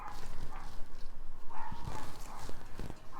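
A dog barks outside, somewhat distant, with a few short barks scattered among faint background noise and soft thumps.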